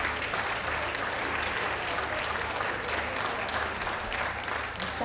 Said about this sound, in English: let's have some applause, please